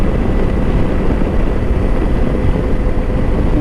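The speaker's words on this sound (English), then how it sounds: "even in 6th gear, just give it a little throttle and it just picks up speed quick" Lifan KPT 400 parallel-twin motorcycle accelerating in sixth gear on twisty roads, a loud, continuous engine drone mixed with heavy wind rush, steady throughout with no voices.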